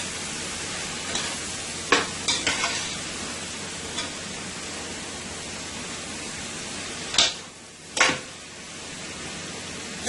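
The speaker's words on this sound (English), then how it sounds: "I'm going to give my peppers a nice toss here." Peppers are tossed in a hot pan while frying for Guyanese-style mixed chow mein, with a constant hissing sizzle broken by a few sharp clanks of tossing and scraping.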